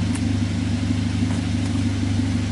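A Toyota Avanza engine idling close by with a steady low rumble and even hum; no shutdown is evident in this short stretch, and nobody speaks.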